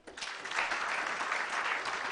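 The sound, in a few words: audience clapping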